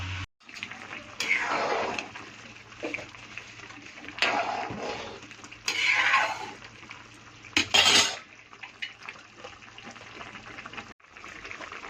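A spoon stirs and scrapes soybean curry in a metal cooking pot, with several clattering bursts and clinks spread through the clip over a steady low hum.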